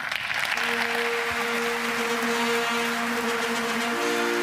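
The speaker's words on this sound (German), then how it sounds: "Applaus" Applause at a classical music awards ceremony, a continuous broad wash of many hands clapping, with a sustained two-note tone sounding beneath it.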